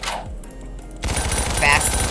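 A submachine gun fires fast bursts in the video game Ragdoll Universe, a short burst followed by a denser rapid rattle of shots, loud and close.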